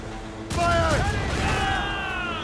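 A single loud cannon blast from a sailing ship in Assassin's Creed Rogue hits abruptly and rolls on with a sustained rumble, with shouted voices mixed in.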